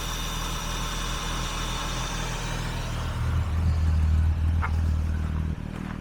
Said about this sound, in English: make sure it switches off as it should, and that it continues to idle.